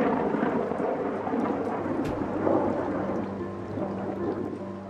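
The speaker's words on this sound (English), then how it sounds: "Rain not only slows down Teoman's schedule, it also soaks an already wet building" Steady heavy rain pours on a wet building under construction during a storm, with a deep thunder rumble rolling underneath throughout, a continuous dense wash of sound with no voices.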